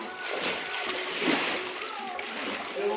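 Water splashes and sloshes steadily in a deep farm well as someone swims after jumping in, the splashing echoing close, with faint voices underneath.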